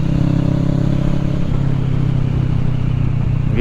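Kawasaki ER6N motorcycle fitted with an Akrapovic racing exhaust, a loud, steady engine drone close by that holds a low throbbing tone, with a pitch shift partway through and no talk over it.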